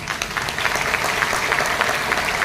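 An audience applauds at a Brahma Kumaris event in Lucknow: sustained, fairly loud clapping from many hands, a steady crackling patter with slight swells that fills the whole stretch without voices.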